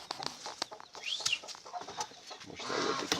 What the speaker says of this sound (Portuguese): Uma galinha lá, a galinha.